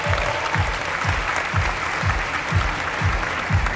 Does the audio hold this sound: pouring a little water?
no